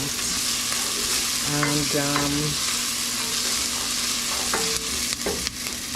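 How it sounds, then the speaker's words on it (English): Onions frying in a pan, steady broadband sizzle throughout with a few short stirring scrapes and utensil clinks near the middle, close and fairly loud. "I want the onions to just caramelize a little bit, just a little, till it gets translucent."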